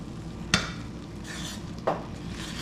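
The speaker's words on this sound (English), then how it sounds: "let's stir it again" A homemade soap mixture boiled down in a lidded pot is stirred, giving two distinct scraping knocks of the spoon over a soft background bubble, close and fairly quiet.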